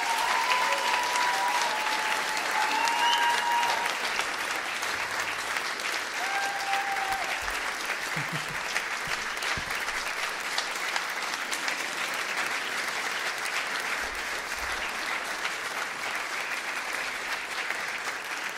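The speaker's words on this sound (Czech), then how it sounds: "Ještě jeden velký potlesk poprosím pro ně." After a Wallachian folk song and dance ensemble's singers finish, a large audience keeps up a long, even round of applause, with a little crowd noise and faint low rumbles underneath.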